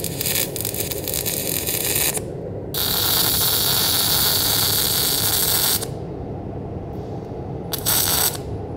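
A Lincoln Power Wave MIG welder running spray transfer gives a steady, loud, even hiss that starts and stops in a few long bursts, with a quieter background between arcs.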